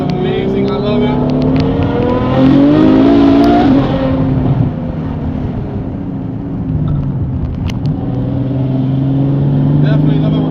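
A Ferrari F12 fitted with an IPE exhaust accelerates hard on a test drive, its engine roaring loud and rising in pitch before easing and building again, heard from inside with talk over it.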